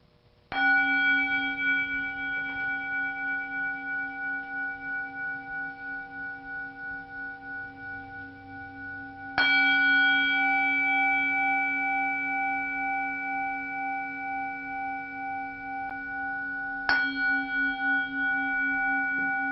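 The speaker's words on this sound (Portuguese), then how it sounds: "esqueci de tocar um sininho tibetano, então vou encerrar tocando 3 vezes" A small Tibetan bell is struck three times at steady, widely spaced intervals, each clear metallic strike ringing out with a long, slowly fading sustain, close and alone with no talking.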